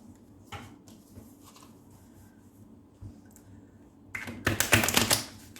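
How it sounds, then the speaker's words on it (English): Soft papery flicks and taps, then a louder burst of rapid riffling as cards are shuffled close by. "I am bad at shuffling."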